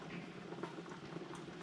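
Cranberry sauce boils in a pot with a soft, continuous bubbling and popping patter, fairly faint and close, with no talk.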